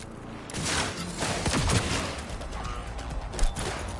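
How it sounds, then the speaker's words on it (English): A gunfire exchange in Cyberpunk 2077 with dense overlapping shots rattling almost without pause, loud and close, rising to a heavier burst near the end, no talking. "Exchanging fire!"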